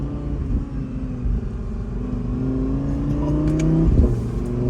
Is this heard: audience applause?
no